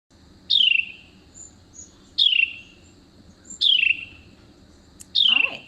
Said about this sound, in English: that's the Carolina wren